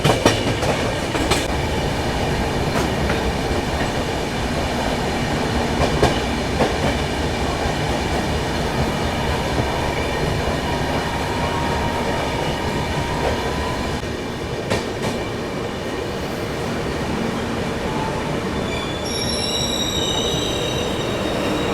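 The Sapt Kranti Superfast Express rolls along rails near Ghaziabad, heard from on board as a constant loud rumble with rhythmic wheel clatter and occasional high metallic squeals, no talking.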